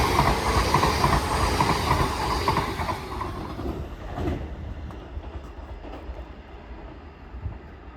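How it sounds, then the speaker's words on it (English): A Class 802 train passing through Earlestown station, a loud rushing roar with rhythmic wheel clatter that gradually fades as it moves away. "Next train to pass by is a 802 going to Newcastle."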